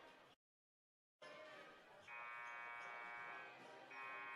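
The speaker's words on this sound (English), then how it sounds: "So there goes the 2-minute buzzer." A two-minute buzzer sounds at a boys' varsity high school basketball game, a sustained electronic tone lasting over a second, pausing briefly, then starting again, over faint gym noise after a short gap of silence.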